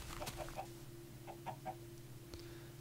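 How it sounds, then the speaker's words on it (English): Chickens in a Minecraft river biome give a few short, faint clucks in two small clusters over a quiet, humming game background. "Chickens!"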